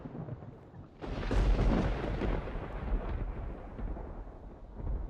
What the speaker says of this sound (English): That was a loud clap of thunder.